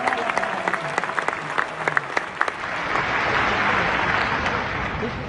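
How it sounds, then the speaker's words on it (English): A church conference audience breaks into applause that starts as scattered sharp claps and swells into a full, steady wash of clapping, with some talking at the start. "I like how the audience is applauding"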